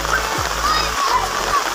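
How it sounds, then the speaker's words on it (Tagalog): An improvised water pump pours a steady, loud rush of water into a swimming pool. The splashing gush runs continuously and close, with a low motor hum underneath. "yung improvised na water pump"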